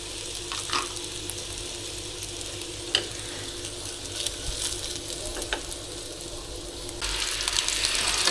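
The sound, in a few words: chicken kuotie dumplings frying in oil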